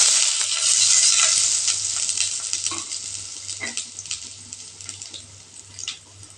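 Sliced big onions, green chillies and curry leaves sizzle loudly in hot oil with cinnamon and cloves, a bright steady hiss close by with occasional stirring clatter and pops, easing slightly over time.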